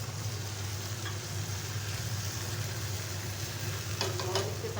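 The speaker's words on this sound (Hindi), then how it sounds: "टमाटर ऐड कर रहे हैं" Tomatoes going into a pan of frying onion, ginger-garlic paste and whole garam masala, a low steady sizzle with a few soft stirring scrapes near the end.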